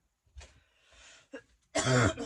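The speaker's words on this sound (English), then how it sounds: "I'm going to be coughing a lot." A person coughs and clears their throat several times up close, with a final louder, harsher cough burst.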